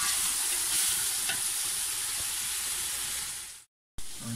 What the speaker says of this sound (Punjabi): ਇਹ ਮਟਨ ਪੈਣ ਲੱਗਿਆ ਵਿੱਚ ਜਨਾਬ, ਇਹਦੇ ਵਿੱਚ ਐਂ ਆ ਗਿਆ ਜੀ ਮਟਨ